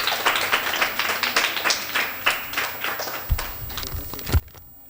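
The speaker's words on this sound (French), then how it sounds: "On applaudit Keza." Children and adults at a Christmas dinner clap for a girl being honoured, a lively, uneven burst of close applause with a few sharp louder claps and thumps near the end before it stops.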